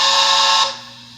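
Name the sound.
long whistle toot of Bachmann K4s HO-scale model locomotive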